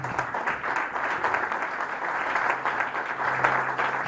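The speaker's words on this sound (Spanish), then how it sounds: "Denle un fuerte aplauso si lo cree" A church congregation claps during a Spanish-language sermon, a moderate, even wash of applause with a faint low tone underneath near the end.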